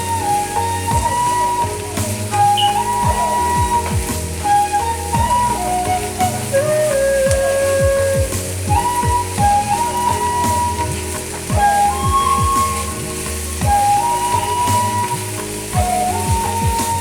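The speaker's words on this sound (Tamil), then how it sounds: "இந்த வெங்காயம் வதங்கையிலேயே நம்ம எடுத்து வச்சுருந்த கருவேப்பிலை, அப்புறம் பச்சை மிளகா அதையும் போட்டுடலாம்" Onion sautéing in coconut oil with curry leaves and green chili for Kerala fish pollichathu, a steady close sizzle with repeated scraping and stirring clatter from a spatula in the pan throughout, no voices.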